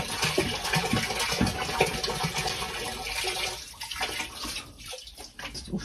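Liquid garden fertilizer is poured into a barrel, a continuous splashing gush of liquid that swells and fades over several seconds, close up with no talking.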